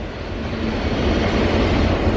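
A loud train crosses a bridge on Pigman Road in Angola, New York, a steady close rumbling roar that builds slightly over a couple of seconds with no voices over it.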